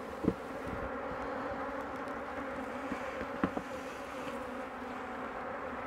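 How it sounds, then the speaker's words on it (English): A dense swarm of bees buzzes continuously nearby, a steady droning hum with a few brief knocks. "These bees ain't real happy with me."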